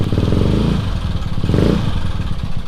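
A Yamaha Mio Soul motor scooter engine sputters and runs with a rough, buzzing idle that swells briefly, close by and loud.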